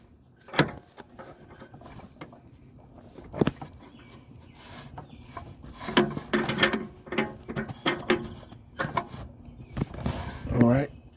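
A ratchet tightens an upstream oxygen sensor on a 2005 Pontiac Montana SV6, giving scattered close, clicking bursts with pauses between them as someone talks quietly.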